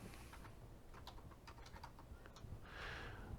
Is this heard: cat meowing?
no